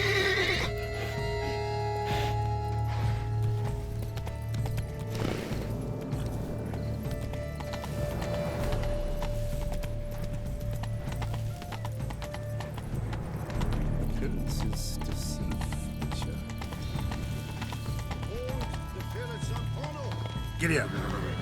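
A horse in The Witcher 3: Blood and Wine, its rhythmic hoofbeats galloping steadily with whinnies breaking through, set against game music and ambience, with a voice speaking over parts.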